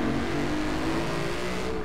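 A car with a full exhaust in Forza Horizon 4 holds a steady, loud engine drone, a continuous low hum with a slowly shifting pitch and no talk over it.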